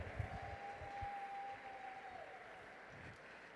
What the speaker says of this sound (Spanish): Y un aplauso para nuestro bailarín, bombón. Grande el aplauso.